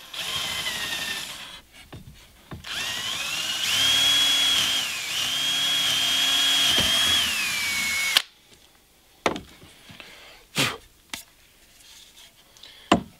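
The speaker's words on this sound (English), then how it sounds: "On the bottom side of the wooden plates, I'm going to use a bigger drill." A power drill boring into a wooden plate, a loud whirring run that bites and strains as the bit cuts, pausing briefly, then stopping, followed by scattered knocks and handling clatter.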